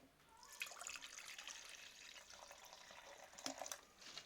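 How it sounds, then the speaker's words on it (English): Water pours steadily into a Prestige PKSS 1.0 electric kettle, a faint, continuous splashing trickle with a brief louder splash near the end. "We are going to pour water."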